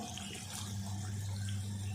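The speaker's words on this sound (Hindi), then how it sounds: "पानी इसमें डालेंगे। इतना पानी डालेंगे कि चिकन भी गल जाए" Water pours steadily into a pot of chicken for a Lahori desi murgh shorba, a continuous close wash of sound with a low hum beneath and no talking.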